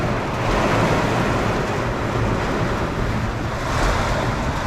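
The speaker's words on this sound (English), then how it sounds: "It is pouring out here." Heavy rain pouring outside a work van during a rainy concrete-cleaning workday, a dense, continuous roaring wash with wind-like buffeting, loud and close, with no talk.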